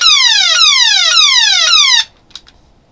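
Electronic sound effect from a G1 Transformers Shockwave toy: loud, repeating descending synthetic sweeps, four in quick succession, which then cut off to near silence with a couple of faint clicks.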